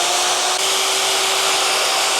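A 120-volt electric motor runs on power from a 12V 100Ah LiFePO4 battery, giving a loud, steady whirring hum with a constant tone throughout and no pauses.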